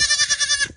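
A goat lets out one short, loud, wavering bleat close by, with a quavering tremble through the call. Faint low sounds from the surroundings sit beneath it.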